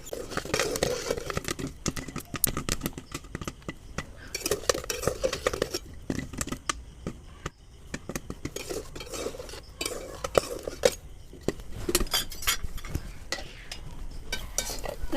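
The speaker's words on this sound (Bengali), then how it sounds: "তলে একটু আমি ফাঁক করে নেড়ে দিচ্ছি একবার।" Snacks are dry-fried without oil in a covered kadai and stirred, producing busy metallic clatter and scraping with rattling, pattering bits over a faint sizzle, close and continuous.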